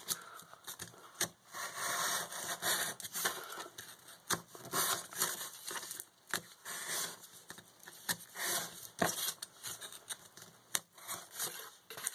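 Hand cutting through an RC car chassis piece being made, a faint series of irregular scraping and snipping strokes close by, with no talking.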